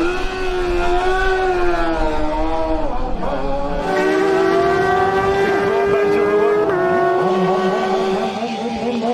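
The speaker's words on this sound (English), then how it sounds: "Lovely triumph sound, I love that sound." A Triumph racing motorcycle at the Manx Grand Prix 2019 Senior Race, a loud sustained engine howl whose pitch climbs and drops through gear changes as the machine passes close.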